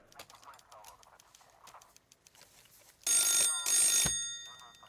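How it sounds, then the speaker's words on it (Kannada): A telephone rings in a Kannada movie scene. After some talk, two loud, shrill bursts of ringing break in, close and bright, with speech before and between them. "Madam phone."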